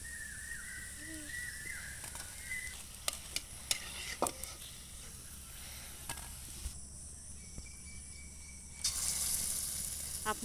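Banana pitha made from wheat flour frying in oil, a steady soft sizzle running throughout with a few clicks and stirring knocks, a bird calling early on, and a louder hiss near the end.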